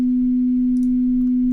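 A single continuous pure 440 Hz tuning tone at a higher octave, loud and unwavering from start to finish, with nothing else audible.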